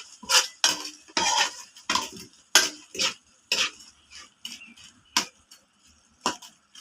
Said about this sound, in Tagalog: Nagluluto po tayo ng garlic prawns.